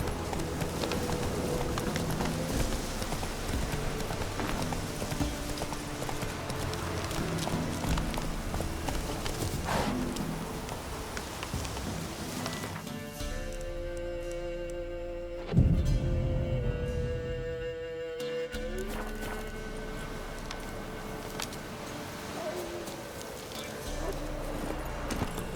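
Horse hooves clip-clop steadily at a walk in The Witcher 3, a continuous game soundscape with ambient music, the rhythm shifting briefly midway before settling back into an even plod.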